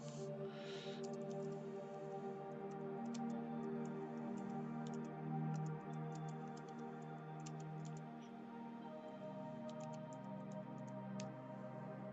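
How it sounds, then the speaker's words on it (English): Someone types on a computer keyboard during a livestream, with soft, irregular key clicks over a steady low hum, faint and close, with bursts of quick taps and short pauses. "Sorry, I'm typing at the same time."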